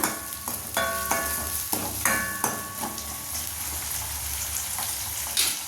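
A moong dal khichdi mixture is stirred in a pan, with a soft continuous sizzle and a series of spaced scraping strokes of the spoon against the metal. It is fairly quiet and close, with no talking.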